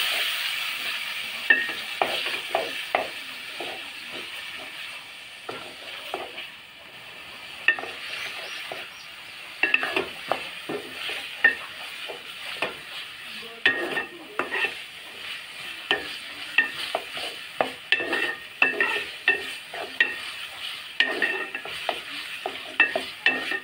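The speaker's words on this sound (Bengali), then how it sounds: "তো এখন আমি পেঁয়াজ কুচিগুলো দিয়ে দিচ্ছি, মরিচ কুচি, পেঁয়াজ কুচি, টমেটো কুচি এগুলো একসাথে দিয়ে দিলাম।" Chopped onion, chili and tomato sizzle steadily in hot oil, with frequent scraping stirs of a spatula against the pan throughout; close, continuous frying with no talking.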